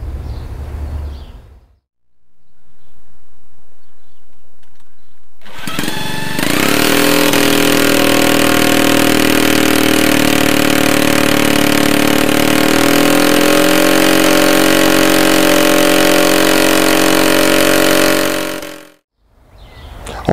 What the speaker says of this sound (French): je vous annonce déjà une bonne nouvelle pour ce 8e Solex, le moteur fonctionne